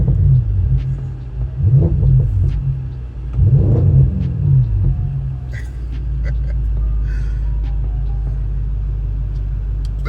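A car engine rumbles close by, with low, steady throbbing that swells in brief rev-like bursts early on, then settles into a constant deep idle drone.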